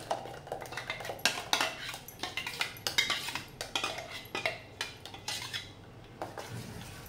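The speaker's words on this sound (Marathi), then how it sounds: "आता मी या भांड्यात काढून घेते" A utensil repeatedly scrapes and clinks against a pot in quick, irregular strokes, close up, as thick date, tamarind and jaggery chutney is transferred.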